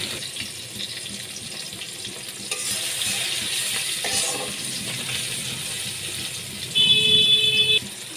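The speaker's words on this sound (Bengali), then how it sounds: "টমেটো আর পেঁয়াজটাকে ভালো করে সেজে নিচ্ছি" Chopped tomato and onion fry in a pan with a steady hissing sizzle and occasional stirring scrapes, growing louder near the end; no one speaks.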